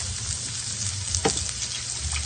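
Ground meat browns in a pan with a constant loud sizzle and crackle close by, broken by one brief stirring scrape, with no voices.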